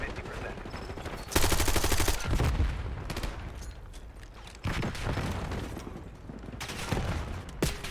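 Bursts of rapid automatic fire from a light machine gun fitted with a small magazine in a first-person shooter, loud rattling volleys separated by short pauses, with mechanical clicks between bursts.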